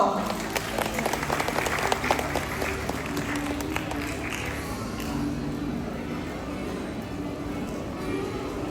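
Sustained applause from an audience at a 2025 graduation ceremony, steady dense clapping with crowd murmur that holds at an even level for the whole stretch.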